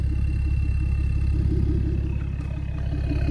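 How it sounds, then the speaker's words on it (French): Modified BMW 335d E92 diesel, Stage 1 with downpipe, idling: a steady, loud low rumble with a thin, faint high whistle running over it throughout. "Tu vois il y a un petit sifflement,"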